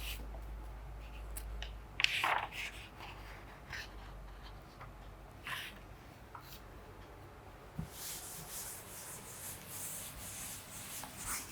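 Board being rubbed and erased during a class 10 maths lesson on polynomials, faint scattered scraping and rubbing strokes with a couple of sharper swipes, quiet room, no talk.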